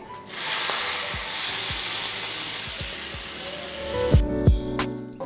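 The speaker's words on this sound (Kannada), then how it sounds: "ಒಗ್ಗರಣೆ ಕೊಟ್ಟು ಮಿಕ್ಸ್ ಮಾಡ್ಕೊಳ್ಳಿ" Mustard seeds and spices for tempering cucumber pachadi hit hot oil with a loud, sustained sizzle and hiss that fades as the sputtering settles, ending in a few scraping knocks.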